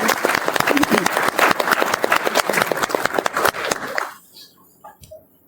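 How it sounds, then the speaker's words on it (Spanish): At a national conference of criminal lawyers, the audience claps loudly, with distinct individual claps standing out in the crowd. The applause fades out abruptly after about four seconds, leaving a quiet room with a few faint sounds. "Un fuerte aplauso para todos ustedes"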